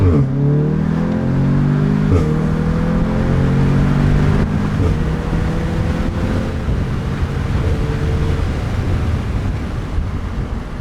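An Audi S3 in dynamic mode accelerates hard along a country road, its engine note climbing loudly through several gear changes and then holding a steady, strong drone with wind noise, no talking.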